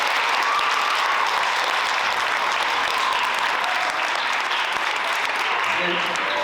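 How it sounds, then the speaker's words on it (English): An audience at a school band concert gives the fifth grade band loud, sustained applause, a dense wash of clapping hands from a large crowd that lasts throughout, tapering slightly at the end. "we're gonna have a huge round of applause for our fourth and fifth grade teachers"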